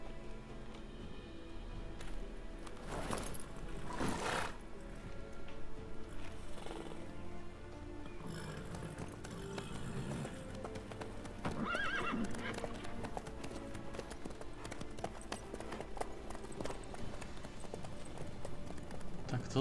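A horse gallops in The Witcher 3 with quick repeated hoofbeats, and at one point it whinnies. The sound stays steady and moderately close under game music, with people talking throughout.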